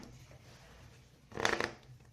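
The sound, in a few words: shuffling tarot cards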